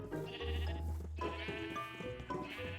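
Minecraft sheep bleat several times close by, wavering nasal calls overlapping in quick succession over a short stretch, fairly loud with no talking.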